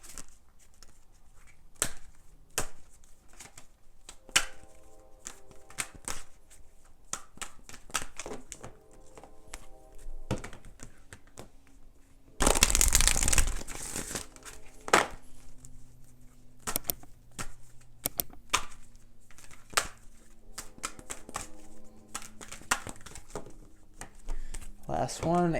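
Angel oracle cards are shuffled by hand in quick, crisp riffling clicks and taps scattered through the clip, with a louder sustained burst of shuffling in the middle and speech in the background.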